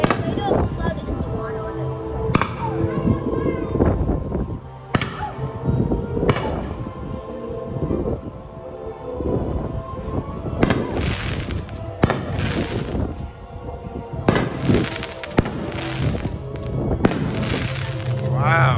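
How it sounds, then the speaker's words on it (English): Fireworks exploding over water at Cabo San Lucas, Mexico, in a rapid series of sharp cracks and thumps, some loud and near, with excited voices talking over them. "Live fireworks."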